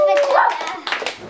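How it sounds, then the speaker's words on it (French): An audience claps for a child's magic trick in which a dove is turned into a scarf. The clapping is short and close, mixed with talking and a voice throughout. "On l'applaudit très fort."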